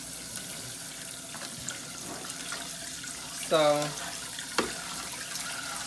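Water runs steadily from a tap into a sink as rice is rinsed, with a brief spoken word and a couple of clinks partway through.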